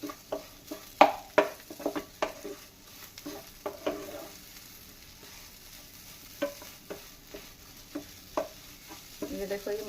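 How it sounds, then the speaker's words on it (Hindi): Spices with a spoonful of fennel seeds roast and sizzle in a pan for matar kachori filling, with sharp intermittent stirring scrapes and clicks over a soft frying hiss, close and fairly quiet. "ये देखो, ये मसाला भुनना भी शुरू हो गया।"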